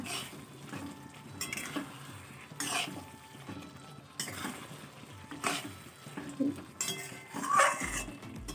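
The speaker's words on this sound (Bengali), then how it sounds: "চিকেনটা দিয়ে দিয়েছি, আলুটা এখনো দিইনি, পরে দেবো। তো এই যে মশলার সঙ্গে ভালো করে মাখিয়ে নেব।" Chicken being mixed with spices in a metal bowl for a home curry, giving soft wet stirring and scraping with scattered clinks of utensil on bowl, close and fairly quiet, with no talk.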